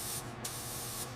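A spray gun hisses steadily as it lays clear coat over a 1930 Ford Model A painted dark navy, with a continuous close airy rush broken by a brief change in tone.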